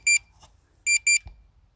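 A Potensic Atom drone gives short, sharp electronic beeps: a single beep, a pause, then two quick beeps in succession, clear and close against near silence.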